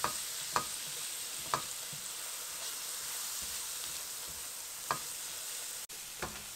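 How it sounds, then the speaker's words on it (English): Masoor dal with turmeric and bay leaf sizzles steadily in a pan while a spoon stirs it, a constant frying hiss broken by a handful of sharp scraping clicks. "We'll just stir this around, incorporate it, and let this go for about maybe 2 minutes."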